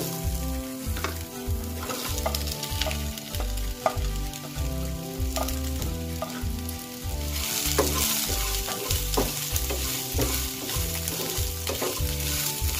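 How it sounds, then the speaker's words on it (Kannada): Onions and green chilies frying in a pan for a Mangalore-style mutton curry, a loud constant sizzle broken by rhythmic scraping stirs of a spatula, close up and with no one talking. "ಇದನ್ನ ಹಿಂಗೆ ಫ್ರೈ ಮಾಡೋಣ"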